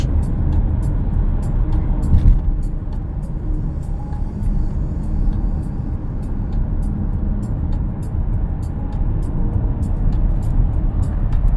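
Volkswagen Touareg SUV cruising along a road, a steady broadband engine and tyre rumble filling the whole stretch at constant loudness, with faint ticking above and no talk.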